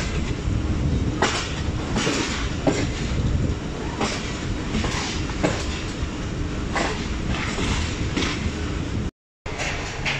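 The Mehr Express, a private passenger train from Multan to Rawalpindi, rolls along the rails with a steady rumbling roar, heard from inside the carriage. Rhythmic clickety-clack wheel beats repeat throughout, and there is a brief gap near the end.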